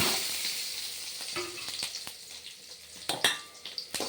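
Mustard seeds, shallots and a green chili fry in hot oil, making a steady close sizzle. Sharp pops and crackles break through it, growing more frequent toward the end.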